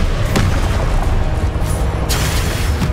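A Confringo blasting spell detonates in Hogwarts Legacy. Loud booming explosions crash in quick succession, with sharp bursts standing out over a continuous rumble of combat effects.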